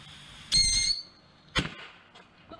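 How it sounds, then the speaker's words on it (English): Fireworks launching in a video game, with a sharp whistling hiss followed by a second crackling burst, loud and close against a quiet background. "Everything can launch fireworks."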